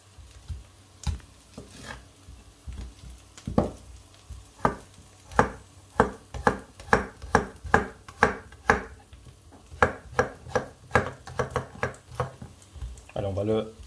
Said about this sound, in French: Allez, on va le hacher un peu grossièrement